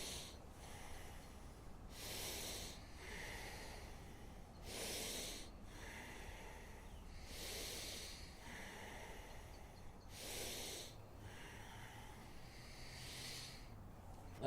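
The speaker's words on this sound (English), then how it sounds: "there can be a force to this breath that can begin to mimic the sound of a bellows blowing on a fire" Forceful Bhastrika yoga breathing, bellows-like, with about five strong rhythmic exhalation bursts spaced a few seconds apart over a soft hissing background, close and fairly quiet, with no talk.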